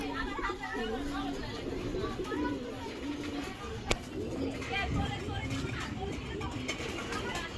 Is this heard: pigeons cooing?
yes